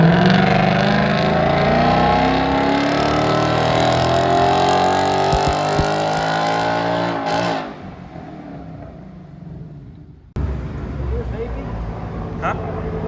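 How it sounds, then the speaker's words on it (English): A car running E85 revs hard on a dyno with a clean intake, a loud close engine climbing steadily through the gears before cutting off, then settling back to a rumbling idle, with voices around it. "here is the dyno run with no sticks in the airbox"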